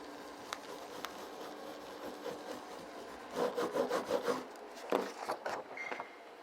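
A baren or tool rubs across paper on a carved woodblock, raising the makers' names in embossed relief on a Hokusai print. The near, soft rasping comes in a run of quick strokes in the middle, with one more scrape after it.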